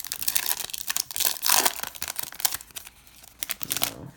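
A 2019 Topps Chrome Update baseball card pack torn open by hand, with close, bright crinkling and ripping of the foil wrapper in quick bursts, then rustling as the cards come out.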